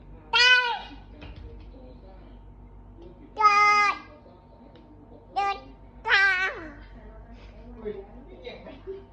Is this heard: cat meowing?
yes